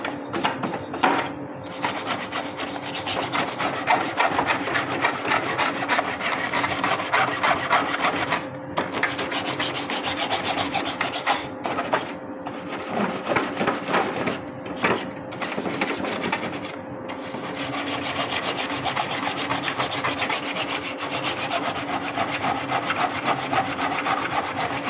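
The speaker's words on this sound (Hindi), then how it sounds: "अब हम लोग इसको ब्रश से साफ करने की कोशिश करते हैं।" A brush scrubs dirt off the filter of a Sharp dehumidifier with steady, continuous rasping strokes. The close, dense scrubbing runs throughout with only a few brief pauses.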